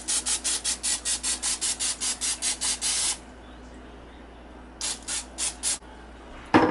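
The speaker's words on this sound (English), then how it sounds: "So I'm gonna just spray some of this vegetable oil on it." A spray bottle of vegetable oil mists catfish before air frying, firing a fast run of about ten short, close bursts. After a pause a second shorter run of about four sprays follows, ending in a sharp clatter.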